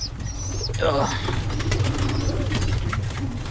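Birmingham Roller pigeons coo softly close by over a constant low hum, with a brief flutter of wings and faint chirps.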